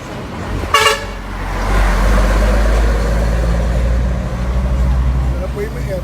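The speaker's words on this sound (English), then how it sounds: "the horns from the trucks too loud" A truck horn blares in one short loud blast at a street protest, followed by a deep, steady rumble of heavy engines close by.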